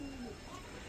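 Pigeons coo softly in a quiet, faint scene, a brief low call heard alone for about a second.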